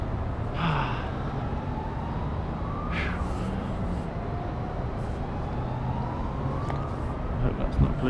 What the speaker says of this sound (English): I hope that's not a police car.